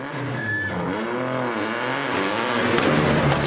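A front-wheel-drive rally car at the 2023 Rali Ceredigion, a British Rally Championship event, spins a donut, its engine revving up and down in sweeping arcs as the tires squeal, loud and close.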